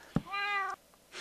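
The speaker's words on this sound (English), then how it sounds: "I am just so happy about the cat and about the kitty noises that the cat makes" A jungle cat in Minecraft gives one clear, drawn-out meow, close and alone, preceded by a short soft thump.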